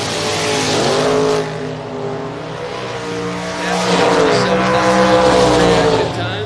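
Drag racing cars launch and roar down the strip, one of them a Corvette, with loud rising engine tones and revving harmonics over a public-address announcer talking throughout.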